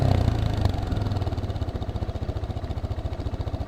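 A Geon X Road 250 motorcycle engine thrums steadily while being ridden through city streets, its close, loud exhaust pulsing in an even rhythm that grows more distinctly throbbing over the few seconds, with no voices.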